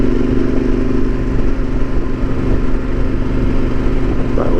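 A Yamaha Super Tenere motorcycle cruising on the road, its engine a steady loud drone with constant rumble and wind noise and no break throughout.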